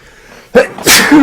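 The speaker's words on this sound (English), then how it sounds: "that's a nice little sneeze" A single sharp sneeze during a live card-game broadcast, a short intake then an abrupt loud burst, followed by a brief voiced tail; no other talk.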